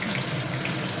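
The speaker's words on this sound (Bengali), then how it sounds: "তাই এর মধ্যে জল দিয়ে দিচ্ছি" Water pours steadily into ground spices for a masala paste while a Bengali koi fish curry is being prepared, a continuous close running-tap hiss for about a second with no voices.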